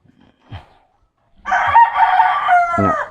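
Backyard rooster crows once loudly and close by in a long drawn-out call, preceded by a couple of faint short clucks in an otherwise quiet farmyard.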